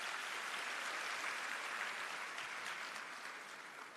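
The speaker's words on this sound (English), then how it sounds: "Can we give another round of applause?" An audience at a teachers' engagement session applauds in a dense, continuous clatter of many hands, heard from a distance, that eases off slightly in the last second.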